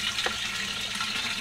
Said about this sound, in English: but now the water is flowing across all of them.